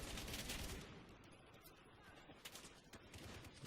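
Dense, continuous gunfire from Battlefield 4 on the Operation Locker map: overlapping bursts and rattling automatic fire, loudest at the start and then sustained at a steady level throughout.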